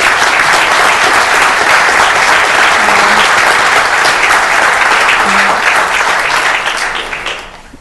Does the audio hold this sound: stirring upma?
no